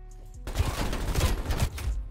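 Shotgun blasts in Black Ops Cold War, several loud close booming shots in quick irregular succession after a brief quiet start, over dense game noise.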